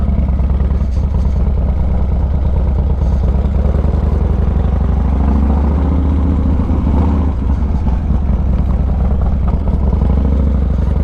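A Harley motorcycle revs hard and accelerates, its loud, steady engine roar filling the whole stretch up close without a break.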